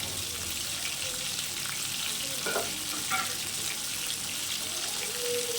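Whole cumin seeds, cardamom, clove and cinnamon frying in hot oil, a steady broad sizzle with occasional light clinks of stirring, close and continuous, no talk.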